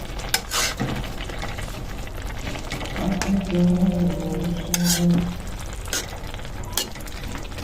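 Tilapia pieces cook in a pan with Malabar spinach: a soft sizzle runs under scraping stirs and metal utensil clatter, with a brief humming tone in the middle of the stirring.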